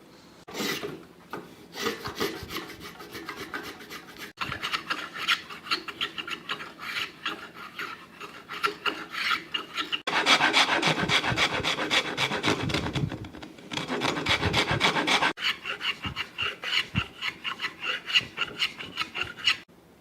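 A wooden rocking chair rocker with laminated layers is shaped by hand with a rasp, giving continuous rhythmic rasping strokes that grow louder and denser in two bursts midway, close and alone without talk.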